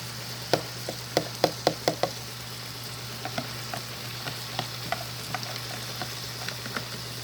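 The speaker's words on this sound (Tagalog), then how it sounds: "Lagay na natin ang kangkong." Water spinach (kangkong) dropped into a hot frying pan with pork lumpia, giving a run of crisp, close crackling pops and sizzles that thin out to sparse spits over a steady low hum.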